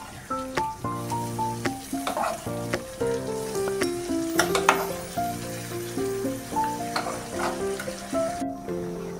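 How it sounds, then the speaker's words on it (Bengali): Boiled lentils go into a pan of fried spices for egg tarka, giving a close sizzle with a wet splash, followed by rhythmic stirring strokes that come in regular pulses. "মশলাগুলো ভালো করে কষিয়ে নেওয়ার পর এখন দিয়ে দিচ্ছি সেদ্ধ করা ডালগুলো"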